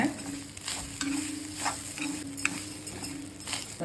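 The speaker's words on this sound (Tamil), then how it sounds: "எண்ணெய் ஊற்றல, சிம்மில் வச்சுட்டு தேங்காயை வறுத்துக்குங்க" Grated coconut dry-roasts without oil in a pan over a low flame, with a faint crackle under repeated close scraping strokes of a stirring spoon.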